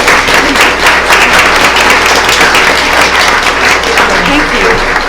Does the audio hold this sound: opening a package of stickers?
no